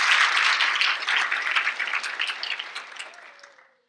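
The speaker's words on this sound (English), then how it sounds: "Give them all a big round of applause." Audience at a school district State of the District event applauding: dense, fairly loud clapping that swells briefly, then thins out and fades to silence over about four seconds.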